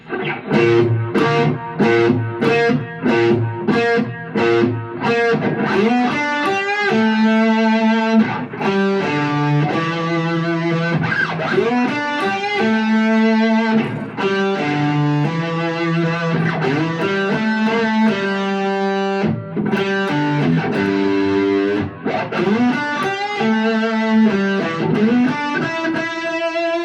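Distorted electric guitar plays a riff slowly, starting with repeated staccato notes and then moving into sustained, overdriven lines with slides, loud and close throughout.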